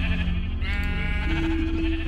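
Sheep bleat in the Minecraft video game inside a Halloween barn's sheep pen, with a wavering bleat over a dense, steady layer of game sound and a held tone toward the end.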